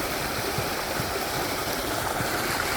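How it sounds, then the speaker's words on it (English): Strong, steady rush of flowing water fills the whole stretch, a loud, continuous broadband roar like a swollen stream, with no voices over it. "Where does the water come from? It sure is mighty at the moment."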